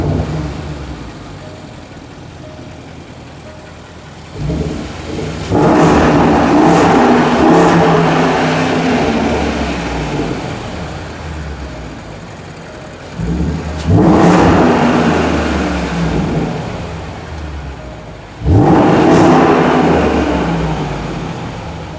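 A Land Rover engine idles with a low rumble, then revs up hard three times in long, loud surges that fall back to idle between each burst, heard close and with no talking.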